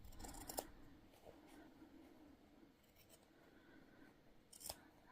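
Scissors snipping fabric while a single-piece textile book is trimmed during sewing; quiet, close cutting sounds with a sharper snip near the start and another near the end.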